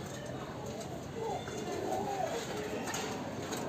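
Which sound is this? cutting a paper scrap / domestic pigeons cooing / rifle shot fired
domestic pigeons cooing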